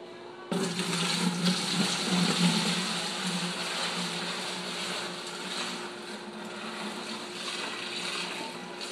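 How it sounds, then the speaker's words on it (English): Beer wort pours from one bucket into another to aerate it, a steady, full rushing splash that starts abruptly and runs on close and continuous. "the way I do it is I just pour it back and forth between the buckets"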